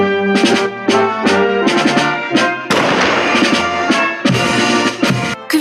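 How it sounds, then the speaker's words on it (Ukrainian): Solemn brass music, the Ukrainian anthem, plays throughout while a sudden military salute volley of rifle fire bursts through midway, loud and close, at a cemetery in Lviv. "Під український славень та військовий салют."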